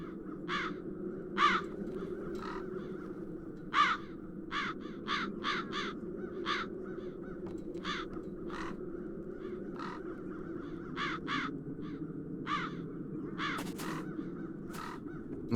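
Crows caw repeatedly over a steady low ambient drone in the video game The Dark Eye: Chains of Satinav, harsh calls coming in irregular single and clustered bursts, some overlapping, throughout.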